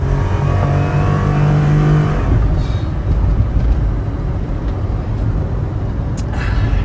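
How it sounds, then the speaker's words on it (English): A 1993 Suzuki Carry Joy Pop kei van with automatic transmission revs hard at full throttle, a loud, steady engine roar with a droning tone that holds for several seconds close to the microphone. "And there you go, full throttle. That's a lot of torque."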